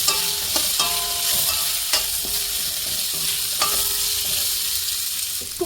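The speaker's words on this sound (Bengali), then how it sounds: "এবার আমি এই বয়েল করে রাখা আমলকিগুলোকে ঢেলে দিচ্ছি, দিয়ে একটু একটু ভালো করে নেড়ে নেব।" Boiled amla (Indian gooseberry) is stirred in a hot pan with oil, giving a continuous soft sizzle broken by repeated scraping and clacking strokes of the spoon.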